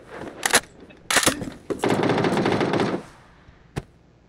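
FAMAS assault rifle fire in the battle royale game PUBG: a few sharp single shots, then a dense, loud sustained automatic burst lasting over a second, with a last isolated shot after a pause.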